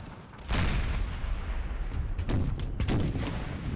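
Cannon fire in the Empire Total War strategy game, a heavy booming barrage with one big blast near the start and further thuds layered over a constant rumbling battle din.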